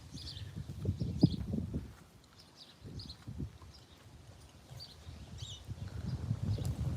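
Horses shuffle and thud nearby, with a few snorts and low rustling movement over a quiet outdoor background on a very hot day.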